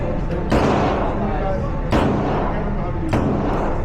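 Three sharp, loud gunshots at a shooting range crack out at roughly even intervals, each followed by a brief echoing decay, against a busy background.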